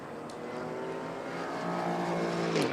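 GT race cars in qualifying at Fuji circuit, Japan, including an orange Mercedes and a Toyota, pass as a steady engine drone heard from a distance that swells slightly louder toward the end.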